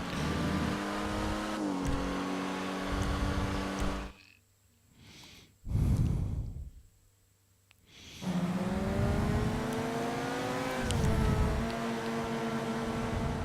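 Race car engines in GTA Online at Pegasus Park, loud, sustained high revving with shifting pitch as cars speed past, dropping out twice briefly to quieter whooshes before the roar returns.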